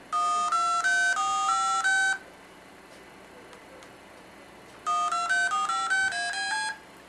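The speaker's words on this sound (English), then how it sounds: "Freeware application turns your Pocket PC into a DTMF tone dialer." DTMF dialing tones from a Pocket Dialer app on a Pocket PC: a quick run of clean two-note beeps, a pause, then a second run of beeps, played clearly and alone.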